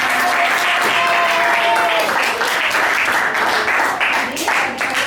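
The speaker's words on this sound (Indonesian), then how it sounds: "Beri tepuk tangan untuk kita semua." A classroom of students applauds together in a steady, dense wash of clapping that fills the whole stretch, loud and close, with a few voices mixed faintly underneath.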